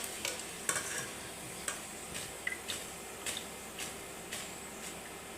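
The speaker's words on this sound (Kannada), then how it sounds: "ಇದು ಗೋಲ್ಡನ್ ಬ್ರೌನ್ ಬರೋವರೆಗೂ ಫ್ರೈ ಮಾಡಿರಿ." Corn pakoda deep-fries in hot oil with a continuous dense sizzle, punctuated by regular soft ticks and stirring taps roughly every half second, with no talking.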